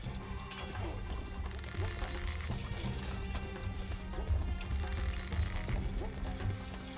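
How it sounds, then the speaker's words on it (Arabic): Rhythmic hoofbeats of a galloping horse in Stronghold Crusader over a dense, steady game soundtrack with clanking and background music. "الفرس تعدو."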